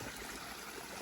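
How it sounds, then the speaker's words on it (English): A stream flowing near a hiking trail, a soft continuous rush of water heard briefly and at moderate distance. "Sounds like we're approaching a stream."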